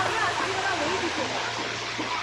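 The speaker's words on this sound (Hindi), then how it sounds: "बहुत ही सुंदर सा पानी का आवाज़ आ रहा है." Waterfall in Meghalaya pouring steadily in a dense, continuous rush of water that fills the whole clip, with a low hum underneath and no clear pauses.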